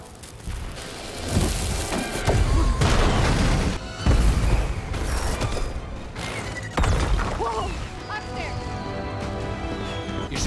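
Firecrackers explode through a building packed with flammable goods, a dense, loud run of booms, crashes and crackling bursts that continues steadily with speech over it.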